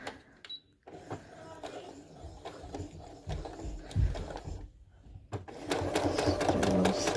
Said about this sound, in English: you'll stick it under the sewing machine like this to close up that hole